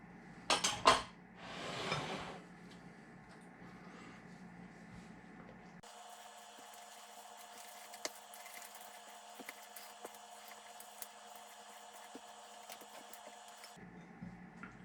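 Cake donut batter being mixed in a bowl, with a few sharp utensil clinks and scraping at the start, then steady faint scraping and occasional light taps against the bowl.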